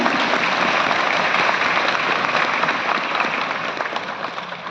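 Loud, sustained applause fills a hall at Vigyan Bhawan, New Delhi, as an award recipient receives her honour from the President, steady dense clapping from a large seated audience with no voices over it.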